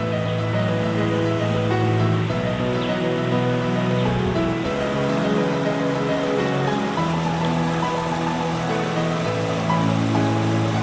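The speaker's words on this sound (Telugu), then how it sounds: "ఇది ఇసుకాల పాములపాడుకు మధ్య ఉండేటువంటి దావను కలిపేటువంటిది ఈ వాగు" A village stream (vagu) between Isukala and Pamulapadu rushes by in a loud, constant wash of flowing water, unbroken across the whole stretch with no voices.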